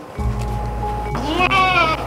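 A goat bleats repeatedly in a rural Sundanese village beside a small diesel rice mill, with a drawn-out wavering cry rising toward the end over a steady low engine hum.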